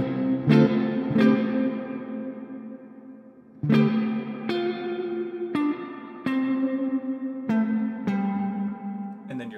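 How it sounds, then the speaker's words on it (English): An electric guitar plays through an Orange Crush Pro CR120H amplifier with hall reverb turned all the way up, each picked note and chord ringing out into a long, spacious tail, with no talking. "Back to the hall, all the way up."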